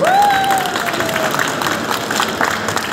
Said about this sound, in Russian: Залину Константиновну Кусаеву под ваши аплодисменты.